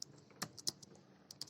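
Quick, light keystrokes on a computer keyboard while entering a PostgreSQL query, a short irregular burst of close clicks in a quiet room.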